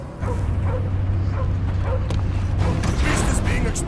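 Dog whimpering and yipping in the Guardians of the Galaxy video game on PS5, with short cries and barks rising over a steady low rumble of game music and action that runs throughout.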